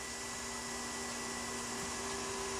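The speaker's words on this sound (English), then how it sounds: "quickly place the plastic over the part and start the vacuum cleaner" A vacuum cleaner running steadily to suck heated plastic down over a mold for vacuum forming, a loud continuous whining drone with a fixed hum, no speech.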